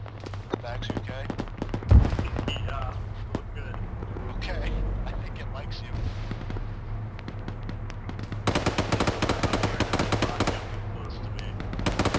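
Gunfire rattles in the military game ARMA 3 as rapid automatic bursts and single cracks are mixed with a loud thump, ending in a long, dense, fast volley near the close while game sounds hum underneath.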